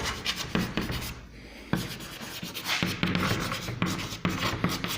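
Chalk or marker writing on a classroom board, a steady run of scratchy strokes and taps with short pauses, fairly close and moderately loud, with no talking over it.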